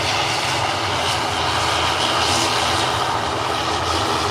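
An Aer Lingus airliner takes off down the runway at Liverpool Airport, its engines a loud, steady roar that holds for several seconds with no talk over it.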